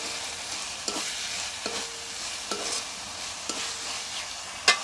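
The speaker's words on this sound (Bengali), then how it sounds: "আর একটু নেড়ে মিশিয়ে নিচ্ছি।" Mutton curry masala cooking in a pan, a soft continuous sizzle punctuated by five evenly spaced spoon strokes scraping and tapping the pan, the last one loudest.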